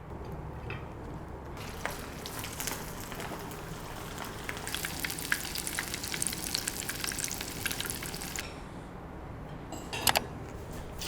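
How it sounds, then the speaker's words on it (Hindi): Chapli kababs fry in hot oil with a steady, fairly faint sizzle and crackle throughout, marked by scattered sharper spits and pops. "कबाब फ्राई हो गए, अब मैं इसको निकाल लूँगी।"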